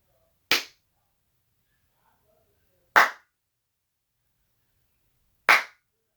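Three sharp hand claps, evenly spaced about two and a half seconds apart, each crisp and alone against near silence.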